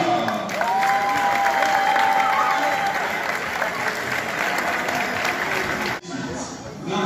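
A crowd at a shooting competition gives sustained, loud applause to welcome a player, dense clapping with a faint tonal whistle over it, ending abruptly with a brief quieter tail.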